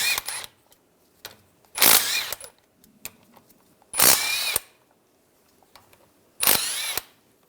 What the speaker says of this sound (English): We're going to take these cover bolts out. I'm going to use a 13mm socket.